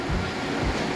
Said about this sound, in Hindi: वो सामने दो बिल्डिंग्स के बीच में से पानी जा रहा है